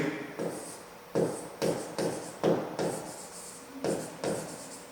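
Pen strokes on paper while working a fifth-grade maths exercise by hand, a series of short scratchy bursts in an irregular rhythm, close and fairly quiet, with no talk over them.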